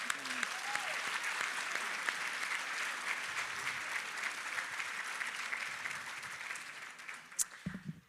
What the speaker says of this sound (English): Can we give Ann and her family another round of applause?